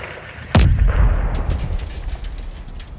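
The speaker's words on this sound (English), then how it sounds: "Incoming missile." An incoming missile blast in the Call of Duty Modern Warfare 2 campaign: one sudden loud close explosion with a deep booming low end, then a rumbling tail and scattered debris crackle fading over a couple of seconds.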